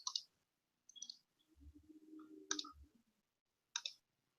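Computer mouse clicking on text boxes, a few sharp isolated clicks spaced across the moment with a soft low murmur between them, close and fairly quiet.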